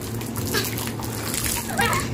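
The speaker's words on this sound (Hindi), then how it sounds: "बच्चे यहाँ पर पानी के साथ खेल रहे, देखिए इनायक रायन" Water splashing and sloshing with children's voices mixed in, a busy, continuous outdoor scene with steady background noise.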